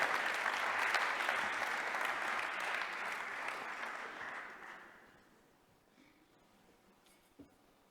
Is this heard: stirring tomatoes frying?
no